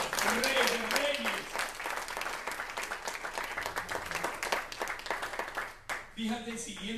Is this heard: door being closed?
no